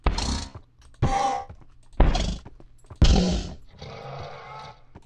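Four separate groaning, whinny-like calls from an undead horse in the Minecraft 1.6 snapshot, each lasting about a second, with short gaps between them. The calls are close and fairly loud, and no one speaks over them.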